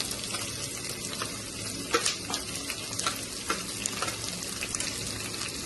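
Onion pieces frying in a pan for a Telugu tomato omelette curry, with a steady broadband sizzle and a few sharp spatter pops and scraping stirs, close and continuous with no talk.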